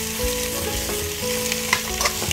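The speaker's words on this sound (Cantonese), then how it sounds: "我哋就可以將啲魚骨咧放落去煎噶啦" Fish bones pan-fry with slices of ginger in a wok over low heat, a close, continuous oily crackle with light scraping and small pops, no voices over it.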